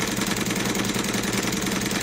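A Cosmo vertical steam engine with a gear drive and gear-driven water pump runs steadily, a dense continuous mechanical chugging and whirring with fast regular beats, close and fairly loud.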